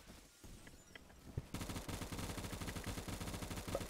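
Rapid automatic gunfire in a shooter video game with an M16A3 rifle, aimed through a wall. It starts suddenly after a quieter lead-in and continues as a steady, fast, dense rattle to the end.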